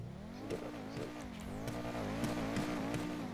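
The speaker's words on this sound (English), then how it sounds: "Listen to that turbo." Turbocharged sports car engine in GTA 5 revs steadily and loudly up close, its harmonic drone rising and falling in several short surges with faint hissing bursts over the top.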